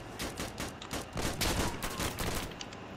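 Rapid gunfire from a firefight in the video game Insurgency Sandstorm, a dense volley of overlapping shots cracking in quick bursts for about three seconds, loud and close with no talk over it.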